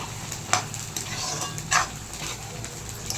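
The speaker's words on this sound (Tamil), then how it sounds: "நல்லா கிளறி விட்டுட்டு" Beef with rock salt being stirred in a pan for a pepper gravy, steady sizzling with several sharp spoon scrapes and clinks against the pan, close by.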